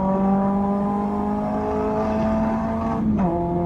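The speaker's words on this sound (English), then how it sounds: "a proper big blip to match the revs properly" A Caterham Supersport race car's engine holds steady, loud harmonic drone up close, then near the end a sharp throttle blip for a rev-matched downshift makes the pitch swoop abruptly before settling.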